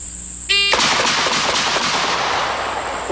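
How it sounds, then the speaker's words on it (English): A .357 revolver fires with a sharp, heavy muzzle blast that cracks in loud and close, then rolls off into a long, rough rumble that lingers to the end. "the muzzle blast on the .357 is tough"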